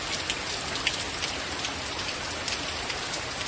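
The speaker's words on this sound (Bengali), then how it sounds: "খালি শুধু দমকা হাওয়া আর তার সঙ্গে বিশাল আকারে, মানে কি বলবো, ঝমঝমিয়ে একদম বৃষ্টি হয়ে যাচ্ছে।" Heavy downpour with gusty wind, a steady dense hiss of rain pattering on surfaces, close and continuous throughout with no voices.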